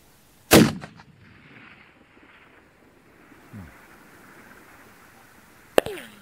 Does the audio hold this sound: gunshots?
yes